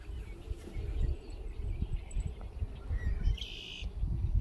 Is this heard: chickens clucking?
no